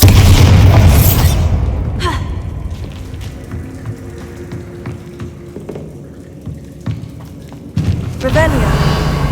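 A Bombarda spell explosion in Hogwarts Legacy, heard as a loud booming burst at the start that decays into scattered debris patter and small crackles, followed by a second thump near the end, with a voice speaking over it.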